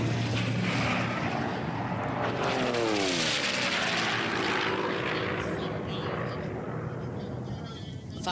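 Sea Fury, Mustang and Yak piston racing planes roar past at the Reno Air Races in the unlimited class, a loud propeller drone that swells and shifts pitch as they fly by, under continuous public-address commentary.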